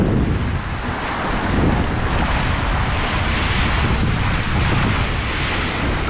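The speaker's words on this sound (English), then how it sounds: "These bows slice the waves nicely." Ocean waves rush and hiss steadily as the bows of a Chris White Explorer 44 trimaran slice through them under sail with the engine off, off the California coast, with strong wind buffeting the microphone throughout.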